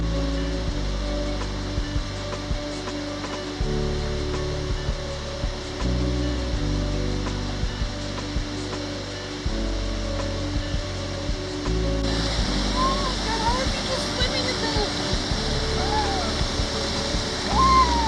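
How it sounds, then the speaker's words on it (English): A waterfall at South Mountain State Park rushes in a steady roar that swells louder partway through, under background music with faint voices. "Up by waterfall."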